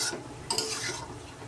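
Rui fish curry stirred in a frying pan, a spoon scraping and clicking twice against the pan over a soft sizzle, heard up close.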